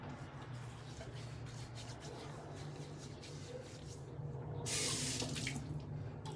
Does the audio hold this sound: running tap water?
yes